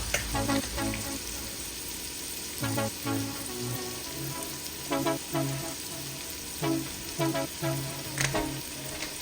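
Curry rice stirred in a pot, with a spoon scraping and clinking in short repeated bursts over a steady sizzling fry, close and moderately loud, with no talking.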